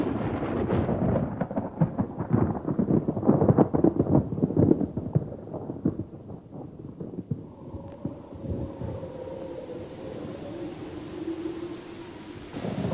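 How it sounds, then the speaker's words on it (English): A slow-moving, intense spring thunderstorm over forest, with dense rumbling thunder and heavy rain in the first half that settles into a softer steady wash with a faint tonal drone near the end. "This storm is slow-moving and unusually intense."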